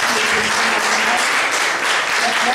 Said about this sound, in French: Les applaudissements sont très bons.